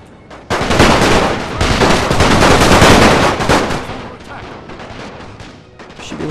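Rolling volleys of rifle and artillery fire in the strategy game The Great War, a loud swelling barrage that fades toward the end.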